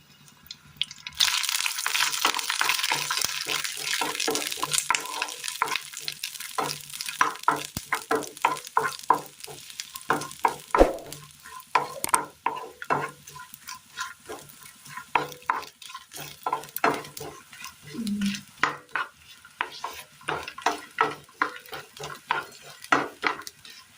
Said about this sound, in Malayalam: ഇതിലേക്ക് നമുക്ക് തേങ്ങ ഇട്ട് കൊടുക്കാം. ഒരല്പം എണ്ണ കൂടി ഒഴിച്ചു കൊടുക്കാം.